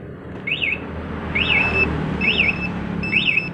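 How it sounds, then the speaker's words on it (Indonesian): A Yamaha Vixion motorcycle's two-way alarm siren chirps in four repeated rising-falling electronic warbles, evenly spaced, over a low background rumble outdoors. "sirine yang di motor bunyi, dan remote juga respon getar dan bunyi juga"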